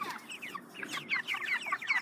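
Six-week-old broiler chickens on a free-range home farm clucking and chirping close by, a busy overlapping flurry of short calls with no voices.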